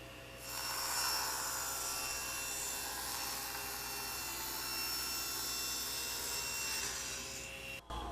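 A table saw cutting through a wooden workpiece guided by a push stick, a loud, sustained whining rasp of the blade through wood lasting several seconds before cutting off abruptly, heard alone.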